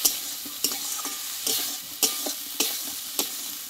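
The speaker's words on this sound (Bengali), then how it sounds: "সরষে পোস্ত বাটা দিয়ে একটু ভালোভাবে কষিয়ে নেবো" Potol stalks sautéing in a pan with mustard and poppy seed paste, with a steady close sizzle broken by about six sharp scrapes of a spatula stirring at a regular pace, no voices.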